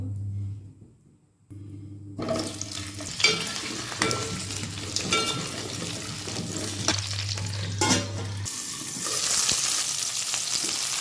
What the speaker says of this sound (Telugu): దొండకాయలు ఫ్రై చేసుకోవాలి ఇప్పుడు